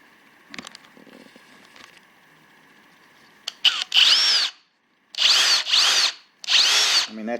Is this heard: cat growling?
no